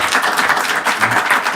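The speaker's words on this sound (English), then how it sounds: "An applause well deserved" An audience at an education forum in Tallinn breaks into dense, steady applause, a close, even patter of many hands clapping throughout.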